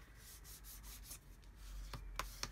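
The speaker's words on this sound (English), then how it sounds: "when I just rub that on there so it's super strong" Double-sided tape being rubbed down onto paper for a small craft tag, a faint close scratchy rubbing with a few light taps near the end.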